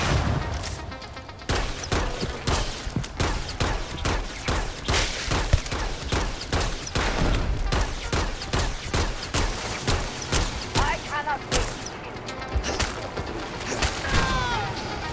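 Sustained rapid minigun fire in the Starfield space game, a dense, loud, continuous roar of gunfire carrying on for most of the stretch with a brief break near the start and another later on.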